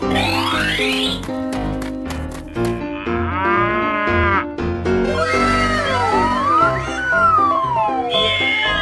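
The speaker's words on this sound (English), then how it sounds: "Cow." A cow in a 3D animal sliding game lets out a loud, long moo over upbeat game music, with whistling and sliding effects running alongside.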